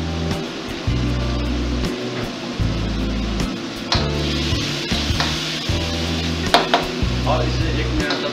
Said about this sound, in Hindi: और इसे 1 मिनट तक भूनते रहिए।